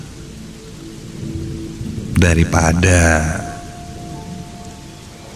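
Heavy rain with thunder as a sound effect in an Indonesian horror radio drama, a steady downpour hiss throughout with a louder rumbling burst midway, while someone speaks over it.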